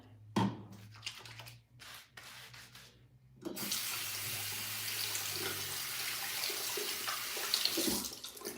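Water runs steadily from a tap as hair is washed with shampoo, a broad continuous splashing hiss that starts after a few quiet seconds of small knocks and then stays loud and even.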